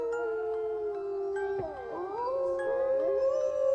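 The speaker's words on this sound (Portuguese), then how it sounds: "se ouve um uivo de um cão e de repente os cães da vizinhança começaram a uivar também" A dog howls at night in long, drawn-out rising and falling wails, with a second howl joining and overlapping midway, clear and fairly near with no talk.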